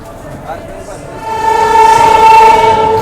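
Marathwada Sampark Kranti Express train arriving at a station, its horn sounding as a loud, sustained tone over rumbling rail noise that builds midway.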